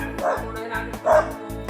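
Dog barking in a rural Philippine village in Quezon: rapid rhythmic yaps and whimpery barks, close and repeating, mixed with a person's voice.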